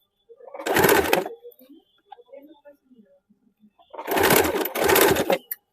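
Sewing machine stitching lace onto a suit made from an old saree, two loud close bursts of rapid mechanical stitching separated by a quiet pause with small handling sounds.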